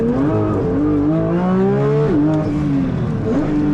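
A shrieking 2024 Porsche 911 GT3 engine holds near its 9,000 rpm redline in first gear, pitch wavering and climbing, loud and close with no talking.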